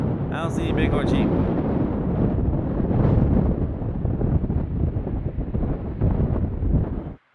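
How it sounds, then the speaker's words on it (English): Strong wind in the Colorado Flat Tops buffets the microphone in loud, rumbling gusts, with a few brief high chirps early on, continuing until a sudden stop. "Oh, that's windy."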